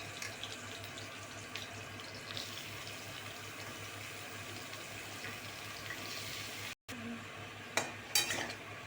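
Cut, washed brinjal and other vegetables go into hot oil and get stirred, giving a soft, steady hiss with a brief gap and a few sharper clatters near the end. No voices.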